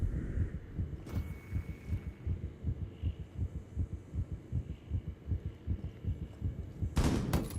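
A throbbing heartbeat effect from an adrenaline surge in the Rainbow Six Mobile video game, steady low pulses thumping for several seconds, with a sharp burst near the end.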